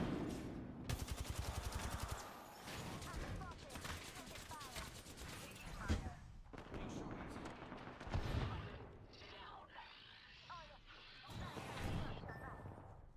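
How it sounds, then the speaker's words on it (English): Smart bullet gunfire in a video game, a rapid burst of shots followed by repeated bursts of firing and impacts through the scene, loud and busy, with a voice talking over parts of it. "Smart bullet deployed."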